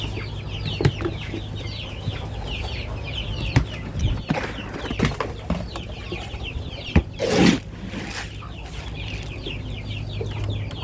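Chickens cluck and chatter at feeding time, a busy flock heard up close over a constant low hum, with occasional sharp knocks and rustles mixed in.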